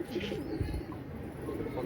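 Quiet pigeon cooing rises and falls in short, throaty bursts against a faint background hum.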